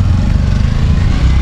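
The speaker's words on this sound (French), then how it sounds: "Tuk-tuk, vous voyez, c'est ces petites camionnettes," A tuk-tuk, a small three-wheeled vehicle running on a motorcycle engine, rumbles past on a street in New Delhi. The engine drone is loud, low and steady throughout the short moment, close by and without speech.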